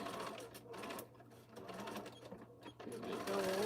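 Close, continuous whir of a sewing machine stitching the box seams of a fabric bag, steady with slight dips, over a low hum, with faint speech mixed in toward the end.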